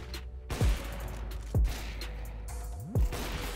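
Gunfire in CS:GO, three separate sharp shots spaced about a second apart over a constant low game hum, moderately loud and close.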